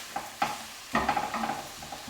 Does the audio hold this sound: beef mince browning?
yes